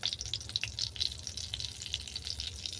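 Turmeric dropped into hot frying oil in a rural Bengali kitchen, giving a steady low sizzle and crackle with scattered bright spatters, close and fairly quiet, no talking.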